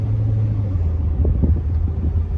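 A Chevrolet Corvette C7 cruises along, heard from inside as a steady low engine rumble with road noise, even and unbroken.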